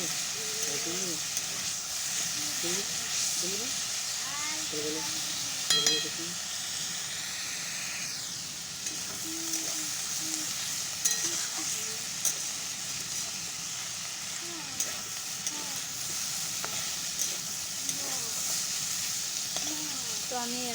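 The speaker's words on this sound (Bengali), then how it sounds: "সব কিছু একসঙ্গে দিয়ে এবার ভেজে নিচ্ছি" Pointed gourd and spices fry together in a pan, giving a steady, close sizzle and hiss throughout, with a few faint stirring scrapes and a voice talking softly in the background.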